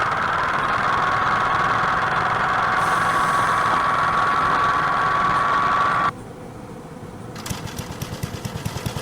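An old 20th-century walk-behind tractor engine runs steadily up close with a continuous droning idle, then the sound drops abruptly and gives way to a rougher, pulsing chug near the end.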